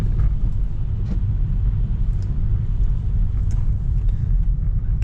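A rear-wheel-drive Tesla on summer tires creeps slowly along a snowy road, giving a constant low rumble of tires and cabin noise throughout, with no other clear sounds.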